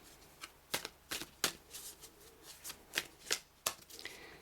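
Crisp, papery riffles of tarot cards being shuffled, arriving in quick repeated bursts close by, with no voices.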